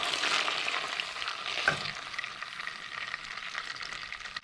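Butter and sugar bubble and sizzle steadily in a pan as they cook down into caramel, a close, even frying hiss throughout.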